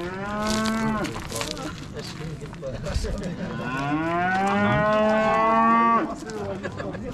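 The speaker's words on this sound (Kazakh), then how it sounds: "Жақсы сиыр екен." A cow at a livestock market gives two long, loud moos close by, the first brief and the second drawn out, with faint background market noise.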